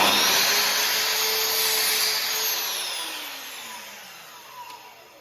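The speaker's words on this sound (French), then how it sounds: "Avec ma lame qui coupe." A power saw blade cuts through a baseboard with a loud, high whine that starts at full strength close by and gradually winds down as the blade slows.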